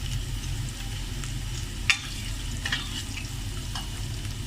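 Mutton frying in a karahi: a continuous close sizzle with occasional light clatter and scraping, no voices.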